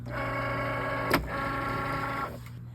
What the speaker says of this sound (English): I'll go ahead and load that into my Cricut.